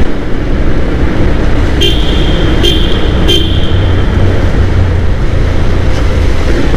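Three short honks from a Pulsar 150 motorcycle near a bridge ring out over a steady roar of wind and traffic during a street ride.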